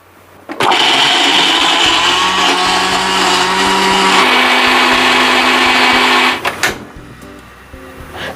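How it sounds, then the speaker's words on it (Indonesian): A blender grinds roasted shallots, garlic, galangal and candlenut into a spice paste for serundeng, a loud sustained motor whir that starts abruptly, shifts pitch midway, then stops with a rattle. "Saya haluskan dulu ya bahan untuk bumbunya serundeng kelapa gurih manis"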